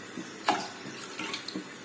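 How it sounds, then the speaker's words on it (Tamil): About a glass of water is poured into a pan, making a short, close splashing trickle with a sharp splash near the start. "இப்போ ஒரு பேனில் வந்து நம்ம 1 கிளாஸ் அளவுக்கு தண்ணி ஊற்றிக்கங்க"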